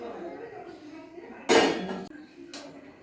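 Freshly washed dishes and utensils stacked to drain slip and clatter down in a sudden loud crash, followed by a brief second clink, while a person keeps talking nearby.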